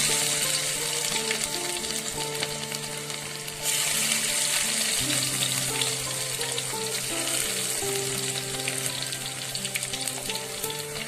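Garlic dropped into hot oil with cumin seeds already in it, frying in a loud, continuous hissing sizzle that stays steady throughout with a faint low hum beneath, no speech.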